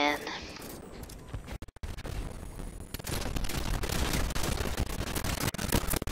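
Kindled Orchid hand cannon from Destiny's Black Armory firing in live combat: dense, overlapping gunshots and scraping impacts fill the clip near and loud, with brief dropouts between bursts and game sounds mixed in.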